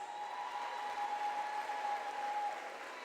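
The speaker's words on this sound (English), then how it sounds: "Give them a round of applause, please." Audience at the CARIFESTA festival applauds performers from Antigua and Barbuda, a faint, distant wash of continuous clapping with a steady tone humming alongside, even in level for about three seconds.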